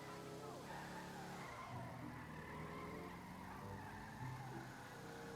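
A new car in GTA 5 Online drifts with tires skidding and squealing, mixed with engine noise and game sound, loud and continuous throughout.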